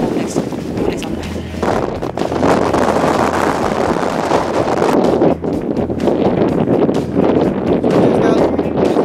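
Strong wind roars steadily against the microphone on the slopes of Mount Fuji, a loud, continuous rushing with gusty surges and no clear voices.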